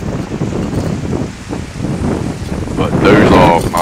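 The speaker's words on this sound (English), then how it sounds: "Full sun, a lot of wind, and it's cold as you know what out here." Strong wind roars outdoors during a winter storm in Virginia, a steady broadband rush with microphone buffeting that grows louder near the end, while someone talks over it.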